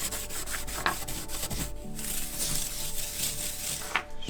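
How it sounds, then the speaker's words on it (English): Close, continuous scraping and rubbing as the coating is scuffed off a bare aluminum hood vent for a BMW E46, a gritty abrasive texture with short stroke accents throughout. "I'm scratching off that coating to get to the bare aluminum."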